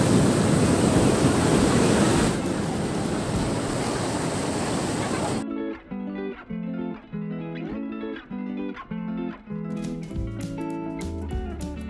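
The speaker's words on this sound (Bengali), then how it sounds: "এই যে আমি এখন রয়েছি পুরী সি বিচ, আর সকালের উত্তাল সমুদ্র" Rough morning sea waves break at Puri beach in a loud, steady, close roar for about five seconds before giving way to music.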